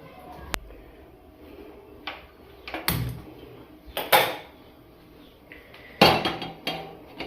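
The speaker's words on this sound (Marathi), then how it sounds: "गॅसवरती कुकर चढवलं आहे." A pressure cooker is set on a gas stove in a home kitchen during chicken cooking, giving several scattered metallic clanks and knocks of pots and utensils at close range, with no talking.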